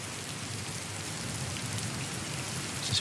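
Steady, even rain hiss falls in a terrain performance test of a video game, a dense broadband wash with no pauses across the whole stretch.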